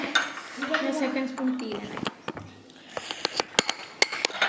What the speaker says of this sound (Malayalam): അടുത്ത സ്പൂൺ തിന്നുകയാണ്.